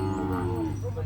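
Cattle at a livestock market give a single loud, close moo, a deep sustained bellow that slides downward in pitch over about a second.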